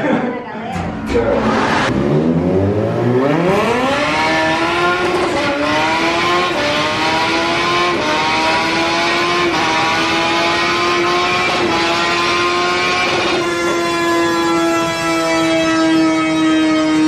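Honda CB 1000R motorcycle on a dynamometer, engine revving up hard from low and climbing to a sustained loud high-pitched wail with a brief gear step, held close and steady to the end.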